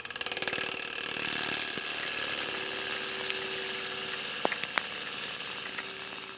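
A wood lathe hums steadily while a bowl is rough turned, the motor's even drone continuous throughout with a few brief sharp clicks and tool scrapes near the end.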